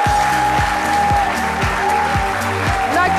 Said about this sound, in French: Je vais vous demander de vous lever pour applaudir très fort Madame Nakissi Savané.